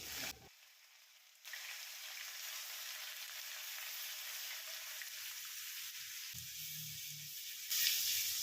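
Steady oil sizzle with a sharp crackle as crushed garlic, ginger and green chilli fry, fairly close; the frying hiss continues evenly, with a few low stirring knocks near the end.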